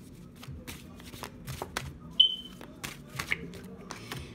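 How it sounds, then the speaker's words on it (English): Oracle cards are shuffled by hand in a series of crisp riffling flicks and soft slaps, close and moderately loud, with a brief high electronic beep partway through. "I'm gonna shuffle the cards as well"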